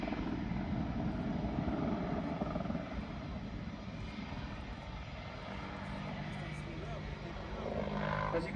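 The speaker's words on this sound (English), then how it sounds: "This manoeuvre shows the immense agility of the 10-ton aircraft, and is probably one of the most difficult to fly" A 10-ton aircraft hovers during a flight display at the Farnborough Airshow 2016, its engines producing a loud, continuous, rumbling roar that holds steady throughout while a commentator talks over it.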